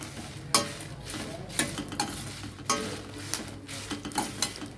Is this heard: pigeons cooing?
no